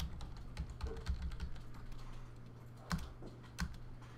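Typing on a computer keyboard, a run of soft, quick keystrokes up close, then a pause and a couple of isolated key presses.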